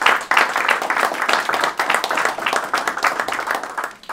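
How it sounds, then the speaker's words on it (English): A round of applause from an audience at a government announcement event, brisk clapping that rises and falls in uneven pulses over a few seconds. "let's give him a round of applause"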